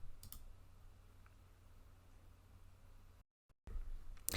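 A few sharp computer mouse clicks while working in statistics software, close and quiet, with long gaps of near silence between them.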